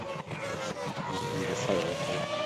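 Toyota Formula One car engine from the 2004 Bahrain Grand Prix qualifying accelerating hard, a loud high-pitched whining scream rising through gears, with a faint commentator voice underneath.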